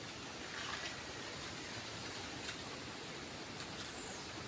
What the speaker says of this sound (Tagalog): Magdamag kagabi, ang lakas ng ulan.